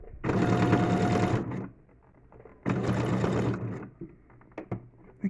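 A sewing machine stitches the border onto a face towel in two close bursts about a second long, separated by a quiet pause with faint handling clicks.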